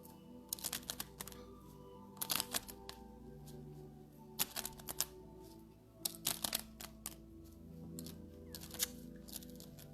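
Tarot cards shuffled for a reading: repeated brisk riffles and flicks of the deck in short bursts, close and fairly quiet, with no speech.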